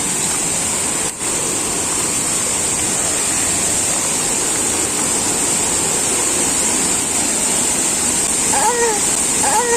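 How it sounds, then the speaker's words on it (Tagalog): Loud, steady roar of rushing water from Carangahan Falls in Banquerohan, Legazpi City fills the whole clip, constant and close, with a few faint chirps near the end. "Lakas ng tubig."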